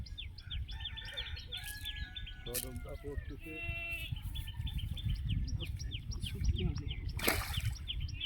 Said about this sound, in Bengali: ছাগল ভ্যা ভ্যা করে